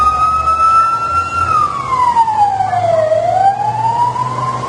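A loud ambulance siren wails, dipping in pitch then climbing again as the ambulance passes nearby, with an engine rumbling underneath.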